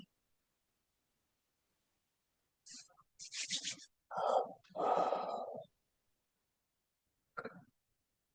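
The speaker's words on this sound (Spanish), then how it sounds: "como ese bostezo, bostezar, como si tuvieras sueño a propósito" A person yawns on purpose, drawing a long breathy yawn close to the microphone after a few short breaths, then a brief sound at the end amid quiet.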